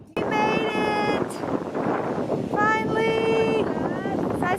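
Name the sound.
wind at the beach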